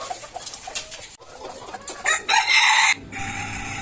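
Laying hens cluck loudly and close together in a poultry farm shed. A rooster crows once among them, and bursts of agitated squawking come through the busy chatter.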